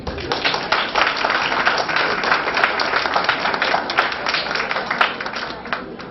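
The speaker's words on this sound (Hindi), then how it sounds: "अब इस पर तालियां बज दी जाए।" An audience at a lecture on women's place in India breaks into steady, continuous clapping that holds at an even level from start to finish.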